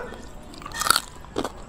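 Two crisp crunchy bites into cooled, crackly fried pork face skin, lechon-style, close and distinct against a quiet background.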